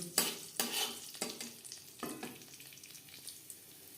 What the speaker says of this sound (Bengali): কড়াইতে আবারও তেল দিয়েছি ফোড়নে দিয়ে দিলাম